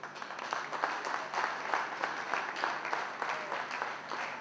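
An audience at a community collective launch event in New York claps in sustained, fairly dense applause that holds steady throughout at a moderate distance, with no clear talk above it.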